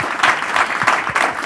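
A studio audience on a talk show clapping, a dense burst of applause rising and falling in quick waves, close and fairly loud with no voices over it.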